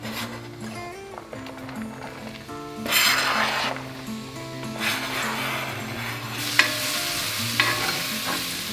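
Chopped leek, celery and garlic stirred in butter in a soup pot, with a steady close sizzle and frying crackle under repeated scraping stir strokes, louder bursts of sizzling coming and going throughout.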